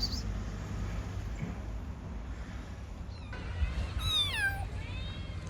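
A kitten gives a short run of high, rising-and-falling meows near the end, close and clear over a low steady background hum.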